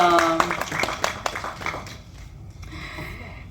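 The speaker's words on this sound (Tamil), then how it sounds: "அதுக்கு ஒரு கைத்தட்டல்" Clapping for the director at a film audio launch, a burst of hand claps from the audience that quickly thins and fades, with speech nearby.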